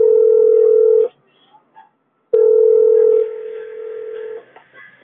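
A phone rings with a steady electronic tone, two loud bursts separated by a short gap of near silence; the second tone carries on more softly before fading.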